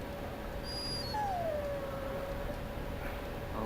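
A dog whimpers in the video game Dragon Age: Origins: a thin high whine rising then sliding down into a long drawn tone, faint over a steady ambient hum, with no talk.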